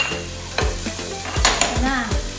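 Minced onions and garlic frying in sesame oil, a loud close sizzle with sharp stirring clatters of a utensil against the pan at intervals.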